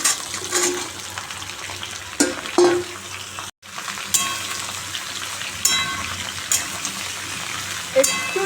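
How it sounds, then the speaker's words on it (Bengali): Potatoes and bottle gourd frying in a wok give a loud, continuous sizzle broken by several sharp stirring scrapes, with one brief cut to silence midway and no voices. "আর একটু আলুটা লাল করে ভেজে নিই"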